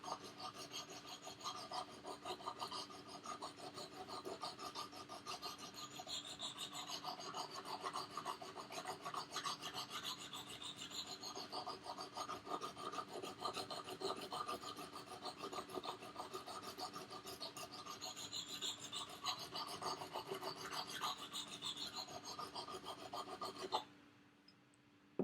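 A metal file is drawn repeatedly along a blade, a steady rhythmic rasping scrape close by that runs for about twenty-four seconds before stopping abruptly.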